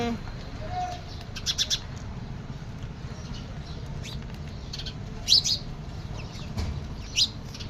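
Sparrows chirp in short, bright bursts at a few points over a steady low background hum, the calls moderately close but not loud.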